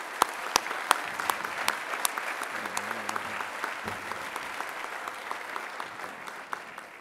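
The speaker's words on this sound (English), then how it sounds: "let's have a nice round of applause for all our award winners, scholarship honorees, and grant recipients" Audience at a conference opening plenary applauds award winners, scholarship honorees and grant recipients: steady, dense clapping from a large crowd that holds an even level for several seconds with no talk over it.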